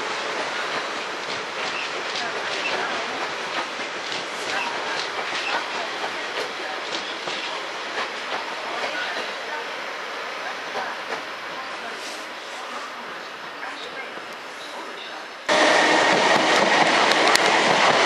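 A train rolls through Clapham Junction station with a steady broad rumble and rail clatter, then a sudden, louder surge of rushing noise near the end.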